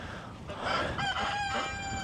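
Chickens cluck softly while a rooster crows nearby, a short, moderately quiet burst of farmyard fowl calls.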